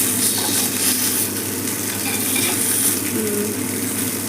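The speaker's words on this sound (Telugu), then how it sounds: "ఈ పీస్ అయితే ఇంకా ఇంకా చాలా బాగా ఫ్రై అయింది" Fish pieces fry in shallow oil in a pan, giving a dense, continuous crackling sizzle with occasional stirring scrapes, close and steady throughout.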